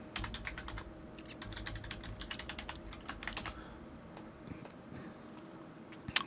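Keys are pressed on a computer keyboard while a password is entered, giving a run of quick, light clicks in irregular bursts that thin out toward the end, close and fairly quiet.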